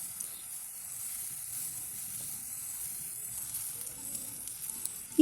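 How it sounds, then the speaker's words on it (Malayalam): Finely chopped onions sauté in hot oil over medium flame, giving a faint, steady high hiss of sizzling that holds evenly throughout, with a small clatter right at the end. "ഓയിൽ ചൂടാകുമ്പോൾ അതിലേക്ക് ചെറുതായി അരിഞ്ഞു വെച്ച സവാളയും ഇട്ട് സവാള ചെറുതായി ഒന്ന് കളർ മാറി വരുന്നത് വരെ 5 മിനിറ്റ് തുടർച്ചയായി വഴറ്റി കൊടുക്കാം"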